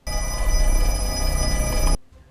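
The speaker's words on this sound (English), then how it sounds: "Meanwhile, the phone rings again" An old-style telephone bell rings in a continuous loud metallic trill for about two seconds, then cuts off abruptly to near silence, in a scene from the horror film Black Phone 2.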